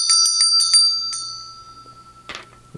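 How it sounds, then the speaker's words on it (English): A bell rung during a tarot card reading: a quick series of about six bright, ringing strikes in the first second, then a long, shimmering decay fading away, with a faint knock near the end. "Got to ring the bell."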